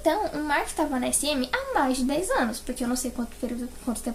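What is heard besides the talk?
No everyday noise stands out behind the speech.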